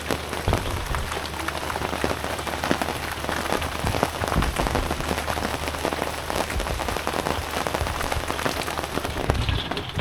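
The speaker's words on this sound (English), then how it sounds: "It's just wet. Everything's wet. It's bucketing down." Heavy rain pours down outside, a dense, continuous patter and splash on surfaces that stays steady and close throughout, with no voices.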